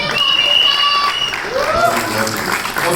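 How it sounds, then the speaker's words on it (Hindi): An audience claps for Bobby Deol, steady applause filling the room throughout, with a voice talking over it. "बॉबी देओल के लिए एक बार जोरदार तालियां"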